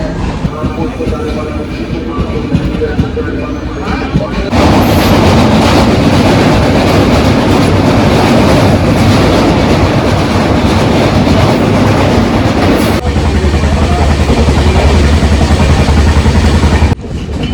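Loud, continuous rumble of a train running on rails, with rhythmic clatter and a sudden jump in volume partway through, heard from on board a train from Amritsar to Anandpur Sahib.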